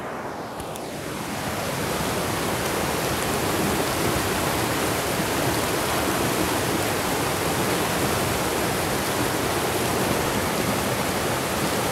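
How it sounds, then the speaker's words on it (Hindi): A mountain river in Himachal Pradesh rushes in a steady, dense roar of flowing water, close and loud, swelling in after the first couple of seconds. "मैं माइक अब रिवर की साइड पर कर रहा हूँ और रिवर की आवाज़ सुनो।"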